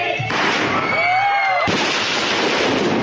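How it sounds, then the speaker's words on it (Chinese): Colored smoke fireworks go off at a gender-reveal party at a family restaurant in Wufeng, Taichung, giving a rising whistle followed by a sudden loud burst, then a sustained noisy rush of smoke and crowd. "彩色烟火射向空中"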